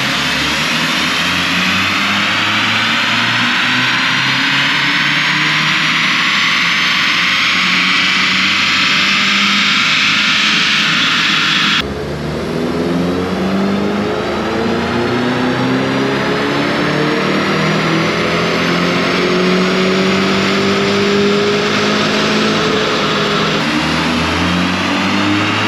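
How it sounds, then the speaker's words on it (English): Volkswagen MK8 GTI engine revving hard on an all-wheel-drive Mustang dyno, a loud sustained rising whine and roar through the gears with a brief shift break, no talk. "we are using a Mustang all-wheel drive dyno here at Racing Greed"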